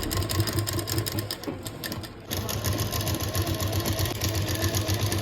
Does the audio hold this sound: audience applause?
no